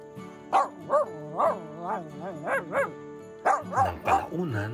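A friendly dog, wagging its tail while it faces a frog, barks about a dozen times in a quick, even rhythm, close and clear, with a brief pause before a final burst of barks.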